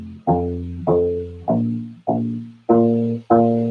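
A U-Bass, a small rubber-stringed ukulele bass, plucking fretted notes, two of each: six round, thumpy bass plucks in an even rhythm, each decaying quickly, close and clear, with no voices.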